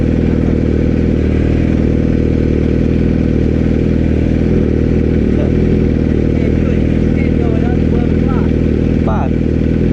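A motorcycle at a car show idles loud and close, its engine droning continuously with a rough, clattering rumble and little change in pitch, while voices can be heard faintly underneath.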